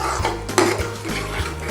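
Tomatoes being stirred into chicken rogan josh in a pan, a spoon scraping and knocking against the metal in a few quick, regular strokes, close and clear with no talking.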